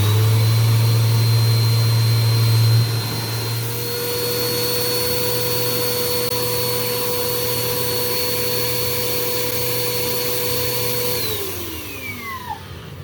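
A 2017 Bissell Powerforce Compact 2112 vacuum cleaner runs with a loud, steady motor whine and airflow rush, its pitch shifting slightly early on before winding down near the end.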